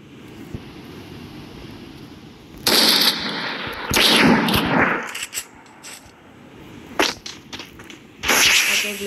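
Gunfire in the mobile game Free Fire Max: loud bursts of rapid automatic fire, one long spray followed by a few short single shots and another burst, close and dominant over a steady windy background hiss.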